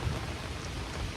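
Heavy rain falls steadily at a campsite, a dense, even wash of drops with no pauses and no voices.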